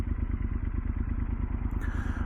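Yamaha Super Tenere 1200 adventure motorcycle fitted with an aftermarket exhaust, giving a steady, close, throaty idle with a rapid pulsing beat that holds evenly throughout, with no talk over it.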